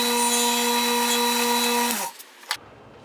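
A lathe tool flattens the face of a spinning Hawaiian curly koa hybrid pen blank, giving a loud, steady whine with strong harmonics for two seconds before it winds down, then a couple of faint clicks and a brief scrape.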